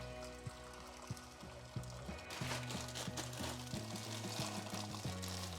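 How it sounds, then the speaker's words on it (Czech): Water is poured into a hot pan holding green beans and a little olive oil while cooking a meal; a steady close splashing stream begins about halfway through, over a quiet background of tonal music. "Tak dáme tam tu vodu."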